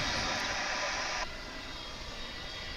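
An MD-11 jet aircraft at DFW International Airport, a steady distant jet engine hum with a brighter hissing layer that cuts off partway through, leaving a softer rumble.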